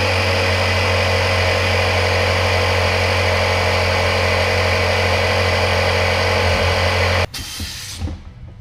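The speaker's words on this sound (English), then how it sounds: "Putting air in a tyre." An air compressor runs steadily and loudly while inflating an aircraft wheel tyre, a constant droning hum with a hiss that cuts off abruptly near the end, leaving quieter handling sounds.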